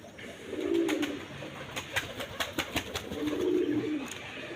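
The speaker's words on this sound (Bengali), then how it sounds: "এই যে একটা জোড়া কবুতর এই যে ডাকছে দেখতে পাচ্ছেন" A pair of pigeons cooing in a loft housing native and Giribaz birds, soft throaty coos in two bouts with some scattered clicks and rustles between, fairly close and quiet.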